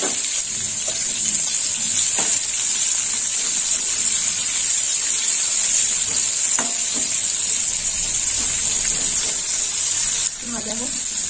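Bitter gourd slices frying in oil, a steady hissing sizzle throughout with occasional light clinks of a spatula stirring, and the sizzle dips briefly near the end.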